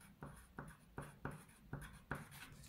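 Pen writing on paper while drawing a scale model of the solar system, a quiet, rhythmic scratching with about six short strokes in a close, hushed room.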